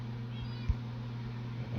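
A cat meows once, briefly, in a video game, a short cry over a constant low hum and background drone.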